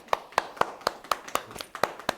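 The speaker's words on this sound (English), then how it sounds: "Let's get out a round of applause" A few people clap slowly and evenly at a comedy show, about nine sharp, separate claps over a couple of seconds, fairly quiet and sparse, with no voices.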